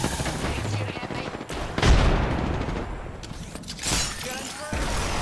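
Rapid gunfire crackles through an Apex Legends firefight, with bursts of shots, a sharp shattering crack near the two-second mark, and dense overlapping reports that swell again toward the end.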